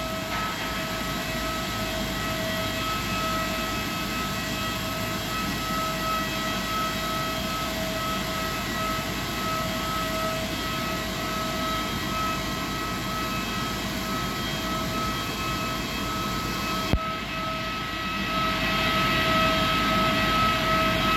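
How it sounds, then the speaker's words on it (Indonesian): A Malaysia Airlines Airbus A330-200 wide-body airliner gives a loud, steady jet-engine roar with a constant whine layered over it. The tone shifts slightly near the end. "maskapai asing dari Malaysia Airlines dengan tipe pesawat atau jenis pesawat Airbus A330-200"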